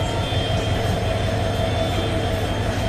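A train pulling into Cox's Bazar railway station, a continuous low rumble with a steady high whine, close and unbroken throughout, no voices.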